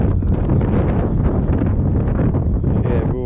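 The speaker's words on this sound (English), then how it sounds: "The wind's picked up, but we're all packed up, ready to go." Strong wind at a moorland wild camp on Fur Tor buffets the microphone in a loud, continuous roar with gusty rumble throughout, no voices heard.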